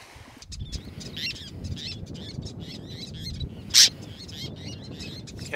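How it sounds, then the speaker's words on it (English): Birds dive-bombing on a Caribbean beach at Cayo Coco, repeated sharp high chirps and calls over a steady surf-like wash, with one loud shrill shriek close by near the end. "And getting dive bombed by these birds now for some reason."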